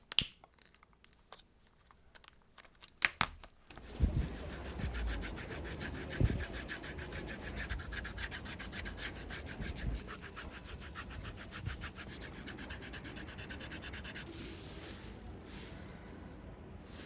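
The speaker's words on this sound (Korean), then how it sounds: "사포로 단면을 정리해서 왔습니다." Sandpaper rubbing along the cut edge of a leather headband for Sony WH-1000XM3 headphones, a steady soft scratching that runs continuously after a few faint knocks, fairly quiet and alone.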